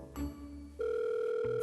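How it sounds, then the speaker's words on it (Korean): A telephone rings in an animated children's show: a short tone, then a sustained steady electronic ring tone that holds clear and alone before shifting pitch at the end, with no talk. "전화를 한번 해봐야겠군."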